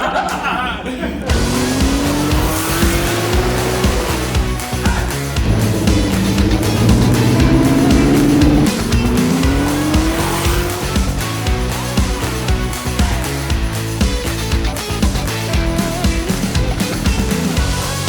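Street-legal GT4 race car engine revs and accelerates loudly through rising gear pulls, close up and continuous, with faint voices in the background.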